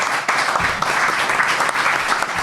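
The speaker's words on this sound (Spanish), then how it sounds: "Yo estoy por dar un aplauso a Carlos." A studio audience at a Spanish-language talk programme about the origins of Europe applauds a speaker with a steady, dense round of clapping that holds evenly loud throughout, with no talk over it.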